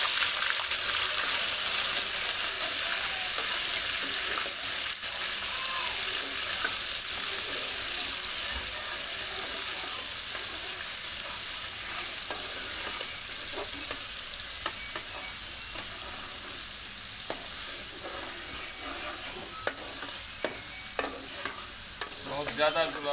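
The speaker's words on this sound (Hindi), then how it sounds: "अब मैं अदरक और लहसुन का पेस्ट डालने लगा हूँ। इसको थोड़ा सा भून के" Ginger garlic paste fries in a pan, giving a loud, continuous sizzle close by with occasional stirring scrapes and no talking.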